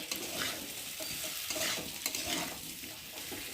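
Fried prawns are stirred into a garlicky masala in a pan, giving a continuous close sizzle with scraping stir strokes throughout and no voices.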